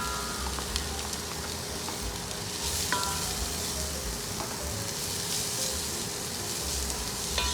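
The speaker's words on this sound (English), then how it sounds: "We'll saute these off for about 5 minutes until they're nice and soft." Onions sautéing on high heat in a pot on an induction pan, a soft continuous sizzle with faint occasional clinks, fairly quiet and without voices.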